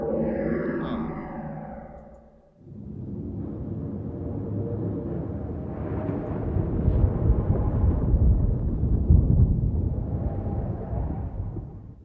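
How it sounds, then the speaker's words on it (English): Distant thunder in the video game The Longest Journey rumbles low and long, a fading roll followed by a broad, swelling rumble that builds and lingers for several seconds with no talk. "It sounds like distant thunder."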